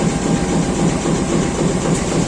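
A train at Cepu station makes a loud, close, continuous heavy rumble with faint rhythmic rail clatter, and no voices are heard.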